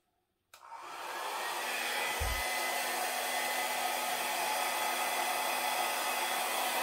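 A hair dryer switches on and blows steadily to push poured acrylic paint across a canvas, a close, constant whooshing airflow with no talking.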